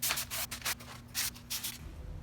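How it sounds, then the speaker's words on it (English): Wooden shoe rack hand-sanded with sandpaper along the grain, a rhythmic series of short, close, dry rasping strokes, about eight in quick succession. "when you are sanding, sand with the grain of the wood"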